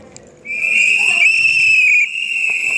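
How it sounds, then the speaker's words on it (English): Whistles are blown at a managers' seminar at a Ritz-Carlton hotel: one shrill whistle blows loudly and steadily for a second and a half, then a second whistle starts right after it, with faint background noise. "Blow the whistles if you agree."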